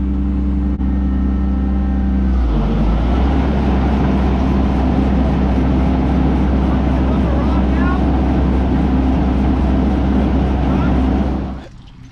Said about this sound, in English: We're gonna crank up the combine here now and see if it actually works